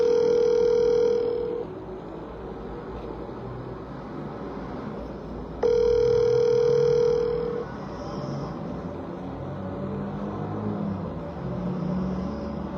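An unanswered phone call to an uncle rings out twice, each long electronic ring tone lasting about two seconds, followed by a low, steady line hum in the gaps.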